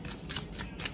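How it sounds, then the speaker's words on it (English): A gold-gilded Somnia tarot deck is riffle shuffled in a quick burst of crisp, rapid card flutters, close and quiet with no talk. "I'm going to try the riffle shuffle."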